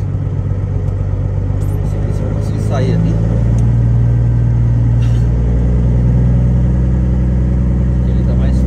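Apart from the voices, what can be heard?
truck engine running while driving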